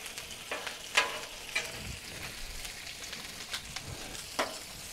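Chorizo fries on a Blackstone griddle set on low, giving a steady close sizzle broken by intermittent scrapes and stirring clicks from a spatula, with no talking.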